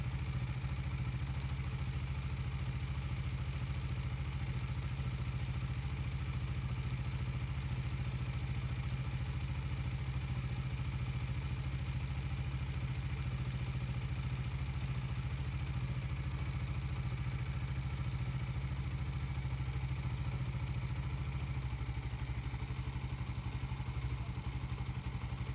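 A Suzuki Raider 150 FI motorcycle engine idles steadily with a low, even throb and faint mechanical clatter, close by and unbroken throughout with no talk.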